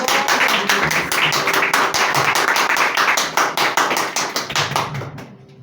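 Audience applause at a Christian therapist's talk as Silvania Lima is welcomed to the stage: a dense, steady burst of many hands clapping that keeps going for several seconds, then thins out and fades at the end.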